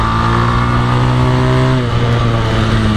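A 1983 Honda TLR 200 trial motorcycle riding on a road, its small single-cylinder engine droning steadily close by with a slight shift in pitch midway, loud and continuous with no talk.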